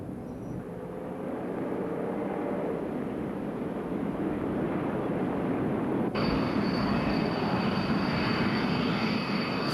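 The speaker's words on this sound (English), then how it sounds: "Fighting Falcons from the 388th Tactical Fighter Wing take off for more tough training missions." General Dynamics F-16 Fighting Falcon jets of the 388th Tactical Fighter Wing roar during takeoff, a loud sustained engine rumble that swells into a sharper, brighter whine partway through.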